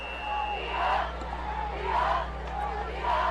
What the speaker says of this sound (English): it's great to have fans back in the crowd, in the stands, hear it